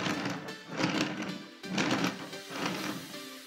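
The plastic wheels of a Transformers Revenge of the Fallen Deluxe Brawn toy vehicle, which are pinned on, roll across a surface close by in three rumbling back-and-forth passes.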